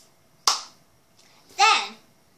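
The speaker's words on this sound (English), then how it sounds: "you want to clap once" A single sharp hand clap rings out in a child's cup song, a quiet rhythm game played with a cup. A voice follows about a second later.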